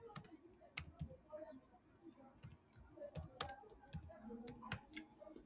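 Computer keyboard typing in quick, irregular bursts of sharp nearby clicks and taps separated by short pauses, quiet overall with no speech.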